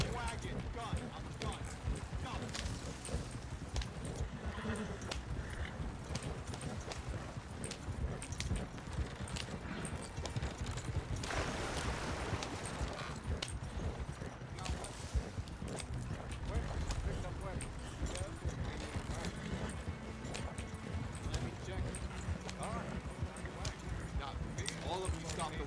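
Horses pull a wagon in a Red Dead Redemption 2 roleplay convoy, their hooves clip-clopping in a continuous rapid rhythm with wagon rattle, while voices shout urgently over the top.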